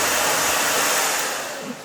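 A hand-held hair dryer blows loose hair off a woman's face, a loud, close rushing whoosh that fades slightly as it winds down over under two seconds.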